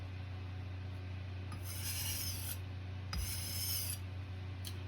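A knife blade scrapes along a sharpening stone in three separate rasping strokes, each about a second long, close and clear over a low steady hum.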